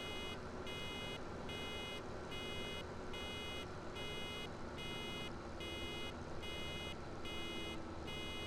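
A tractor's warning beep in Farming Simulator 17 pulses in a quick, regular on-off pattern over a constant engine drone, steady and unchanging throughout with no talking.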